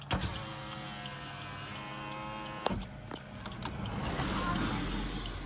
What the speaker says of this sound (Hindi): अब हम मिरर को एडजस्ट कर लेते हैं।